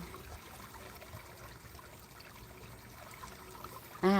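Water runs steadily as a soft, continuous trickle and flow throughout, fairly faint and even, with a brief louder tonal sound cutting in at the very end.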